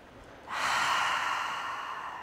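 A deep breath during a yoga stretch: a quiet pause, then a long, airy, sustained inhale that starts abruptly and slowly fades, close and alone.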